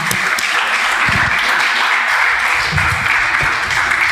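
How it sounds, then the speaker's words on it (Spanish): A church congregation at a Sunday morning service gives sustained applause, a dense, loud, continuous clapping that fills the room throughout, with some voices underneath. "Ese aplauso para el Señor"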